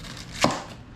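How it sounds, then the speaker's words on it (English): A single sharp knife stroke slices into a head of cabbage on a cutting board, one crisp close chop standing out briefly against quiet kitchen background. "Then we have 1 head of cabbage. Slice in."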